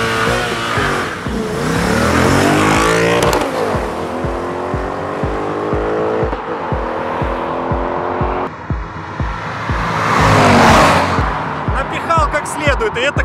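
Audi S5 with a 4.2-litre naturally aspirated engine and manual gearbox launches hard off a drag race start beside a Mercedes E400, engines revving loud and climbing through gears, with a second surge near the end and people talking over it.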